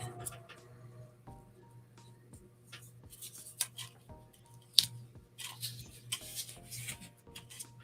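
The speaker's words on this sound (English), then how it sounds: "I'm going to take a pretty good sized piece of tape" Pretty good sized piece of tape pulled from a roll and torn, with quiet crackling, rasping strips and a few sharp snaps, close and soft in a still room.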